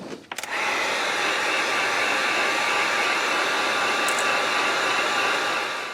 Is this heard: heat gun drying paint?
yes